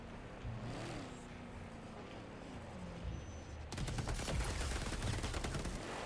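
Machine gun fire in a video game battle, a dense rapid burst that breaks in loud partway through, over an engine-like drone and scattered combat noise.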